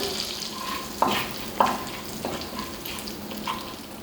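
Whole spices, cinnamon, cardamom seeds and cloves, sizzle in hot oil and butter for paneer butter masala, a close steady frying hiss broken by a few sharp pops and crackles.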